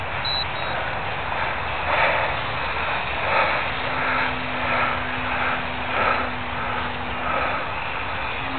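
A rebuilt Parkzone P-51 Mustang RC model airplane flies overhead, its small electric motor making a constant buzzing drone that swells and fades gently as it passes, with no voices.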